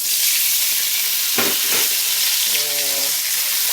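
White wine hits a hot pan of browned garlic to deglaze it, bursting into a loud, dense, hissing sizzle that holds steady throughout, with a brief voice-like hum near the end.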